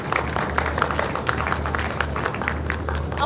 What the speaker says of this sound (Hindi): अपने लिए तालियां बजा दे एक दफा